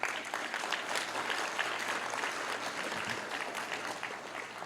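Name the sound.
audience applause at memorial service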